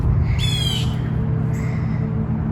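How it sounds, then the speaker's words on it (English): A harsh bird squawk rings out once in the background, then a fainter call follows, over a steady low hum. "You can hear one of the hungry birds in the background."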